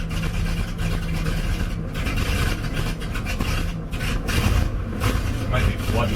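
A 1961 GMC 5000 truck engine starting up in mid-winter after sitting for months, running rough with a loud close rumbling idle and uneven surges, while someone talks over it.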